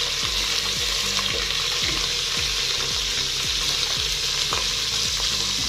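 Browned onions fry with garlic ginger paste in a hot pan for aloo matar, a loud continuous sizzle with rhythmic scraping stirs throughout.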